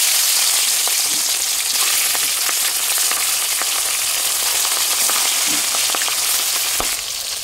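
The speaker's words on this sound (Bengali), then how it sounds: "এবার এক একে তেলে দিয়ে দেবো।" Salted fish fry in hot oil in a kadai. A loud, dense sizzle stays close and continuous throughout, with small pops and crackles and no talk.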